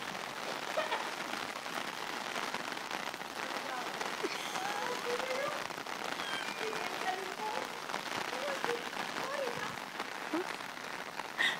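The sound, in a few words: rain during a storm in Ottawa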